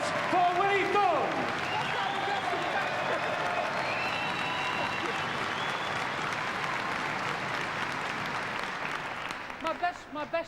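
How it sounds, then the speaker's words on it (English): A snooker audience applauds Willie Thorne after his trick shots, with sustained, dense clapping that stays steady for about ten seconds before thinning out at the end. "Ladies and gentlemen, your voted applause for Willie Thorne."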